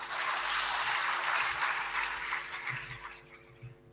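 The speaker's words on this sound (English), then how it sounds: "Give him a big round of applause." Audience applause at an orientation program gathering, a dense wash of clapping that holds steady for a few seconds and then thins out and fades.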